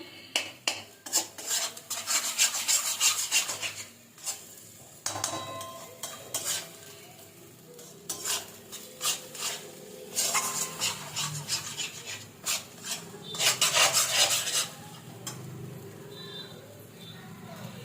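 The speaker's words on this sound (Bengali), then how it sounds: "ভালো করে মশলাটা কষবো।" Spiced filling paste for stuffed pointed gourd being stirred and fried in a pan over raised heat, with repeated scraping, rasping strokes in bursts that come close and fairly loud.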